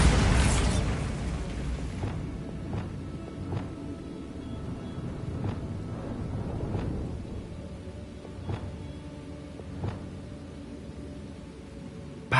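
The Bombarda spell explodes in Hogwarts Legacy with a loud blast at the start that fades into a rumbling tail, followed by scattered faint pops and thuds over low ambient noise.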